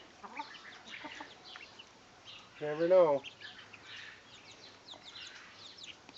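Small chicken chick peeping outdoors, a brief cluster of high chirps in the middle with faint outdoor background, while a person speaks quietly.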